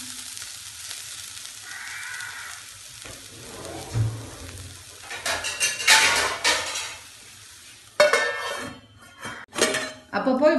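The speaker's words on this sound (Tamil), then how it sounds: "அப்பப்போ இப்படி எடுத்து கொஞ்சம் கிளறிக்கோங்க." A spoon scrapes and clinks through prawn puttu in a pan while it sizzles softly, with stirring strokes growing louder and metallic clatters near the end, set against a low kitchen hum and a voice talking at times.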